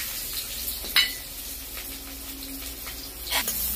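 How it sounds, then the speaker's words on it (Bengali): Chopped onion frying in hot mustard oil, a continuous sizzle broken by a few sharp scraping stirs of a utensil in the pan, with no talking. "পেঁয়াজটা নেড়ে দিচ্ছি, ভালো করে একটু ভাজা হয়ে যাক।"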